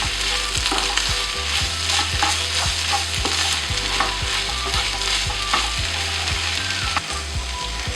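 Prawns roasting in oil with onions, a continuous bright sizzle from the pan broken by regular scraping knocks of a spoon stirring, loud and close with no talking.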